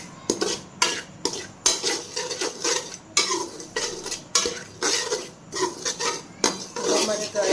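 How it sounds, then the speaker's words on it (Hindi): Semolina dry-roasting in a kadai without ghee, a spoon scraping and clattering against the metal in a quick, repeated rhythm, close and fairly loud. "1 पाव सूजी हमारे पास है, इसको हम भूनेंगे घी के बगैर।"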